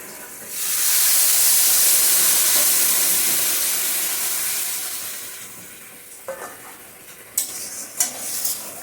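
Water poured into a hot pan of spices for a dried hilsa curry, a loud rushing sizzle that bursts up and gradually dies down, followed by a few clinks of utensils near the end.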